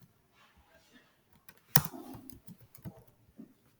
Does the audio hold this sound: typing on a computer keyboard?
yes